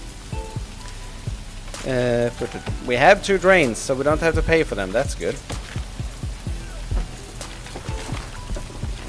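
Steady rain patters down in the prison-building game Prison Architect, a soft, continuous hiss running under someone speaking throughout.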